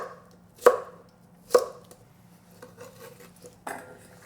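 A kitchen knife chops mushrooms into small cubes on a board for crispy sweet-and-sour mushrooms, giving two sharp, close knocks followed by softer, scattered cuts.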